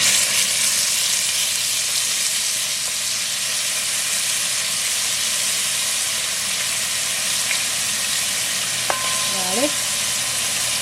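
Finely grated onion, garlic and pimento seasonings fry gently over low heat in a pan for a curry mango, giving a steady, even sizzle throughout, with a brief stir or scrape near the end.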